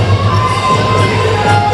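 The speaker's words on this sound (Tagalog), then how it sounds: "We have a good sized crowd here at the United Sports Arena." A crowd cheers and shouts at the United Sports Arena during an MPBL playoff basketball game between Pasay and San Juan, a loud, sustained roar of voices filling the hall.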